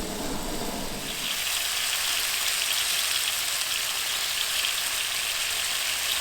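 Steak frying during a truck camping boondocking trip, a dense, steady sizzle hissing evenly throughout, close and constant, with a low rumble fading early on and no talk.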